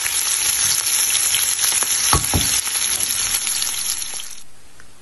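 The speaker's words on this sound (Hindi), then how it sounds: "ऑयल हमारा गरम हो गया है, अब हम इसमें प्याज, मैंने 1 मीडियम साइज की प्याज डाल दी है।" One medium onion dropped into hot oil, a loud, close, dense sizzle with a couple of stirring scrapes midway, cutting off near the end to near quiet.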